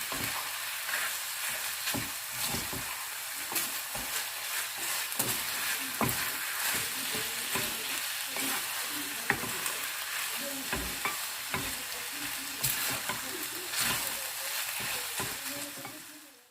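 Beef stir fry sizzles and fries in a pan while it browns, a steady close hiss broken by frequent clacks and scrapes from stirring.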